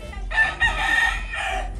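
A rooster on a farm crows loudly and close by in one long, strained call, with a faint cluck of other chickens behind it.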